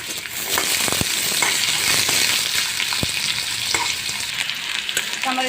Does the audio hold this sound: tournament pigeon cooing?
no